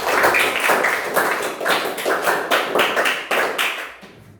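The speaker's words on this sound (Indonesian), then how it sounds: "Baik, kita kasih tepuk tangan dulu ya buat kelompok." A classroom of students claps for a student group, loud and close, in a rhythmic patter that swells and fades over a few seconds before stopping.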